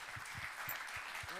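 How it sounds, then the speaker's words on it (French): Audience applause at a workshop feedback session, a faint, steady patter of clapping hands from a modest crowd, with a voice briefly audible at the end. "On peut applaudir Clément bien fort"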